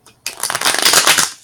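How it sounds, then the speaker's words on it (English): Tarot cards shuffled briskly by hand for over a second, a dense, close riffling flutter that starts abruptly after a brief quiet moment, with no talking. "Let's give it one more shuffle."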